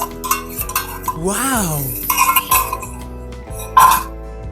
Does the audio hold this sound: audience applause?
no